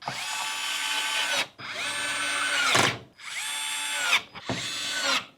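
A power screwdriver tightens the mounting screws of an NGXT CPU cooler during an editing PC build, whirring in four close, loud bursts separated by brief pauses.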